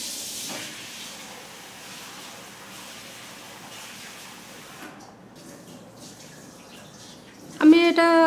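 Raw liver is washed under running water for a Bengali spicy liver curry, giving a faint, steady hiss that drops away near the end before a voice briefly begins to speak.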